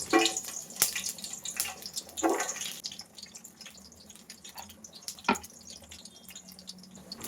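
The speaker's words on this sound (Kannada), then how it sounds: "ಸ್ವಲ್ಪ ಚಿಟಪಟ ಅಂತ ಸಿಡಿತಾ ಇದೆ ನೀರು ಎಣ್ಣೆ ಎಲ್ಲ ಮಿಕ್ಸ್ ಆಗಿಬಿಟ್ಟು" Oil in a kadai with water mixed into it splutters, a low hiss punctuated by a few scattered sharp pops and crackles, with no voices.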